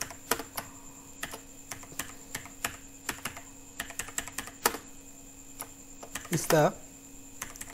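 Fingers typing on a computer keyboard, a sparse irregular run of crisp key clicks close by, with a brief soft voice near the end.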